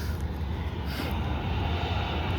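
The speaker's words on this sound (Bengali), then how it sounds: "এটি Malaysian airline Boeing seven three seven landing করেছে" A Malaysia Airlines Boeing 737 rolls after landing at an airport, giving a steady loud broadband jet engine roar with no talking.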